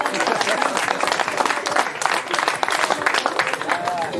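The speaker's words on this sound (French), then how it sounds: "on peut l'applaudir très fort" An outdoor crowd at a soapbox car race in Besse claps loudly for a driver, a dense burst of applause with voices and cheers mixed through it.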